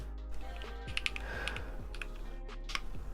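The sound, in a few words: typing on a computer keyboard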